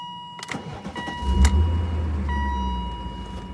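A BMW E39 M5 V8 bought from a Copart salvage auction starts up loud and close: a brief starter crank, then the engine catches and settles into a steady, deep idle, with no talking.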